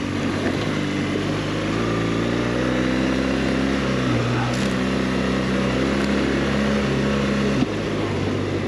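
A BMW GS 1200 motorcycle climbing a trail slope in second or third gear, its engine droning steadily and close with a brief dip in pitch partway through, a voice talking over it.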